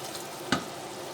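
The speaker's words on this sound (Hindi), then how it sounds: "तो यहाँ थोड़ा सा पानी लगाऊंगी ताकि मसाले ना जलें और इनको भूनेंगे।" Spices frying in a pot with a splash of water added, a faint background sizzle broken by one short, sharp hiss or clatter midway through.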